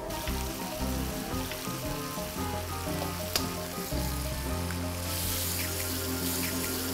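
Two eggs frying in a hot pan for nasi goreng kencur, a steady dense sizzle continuing throughout with no talk.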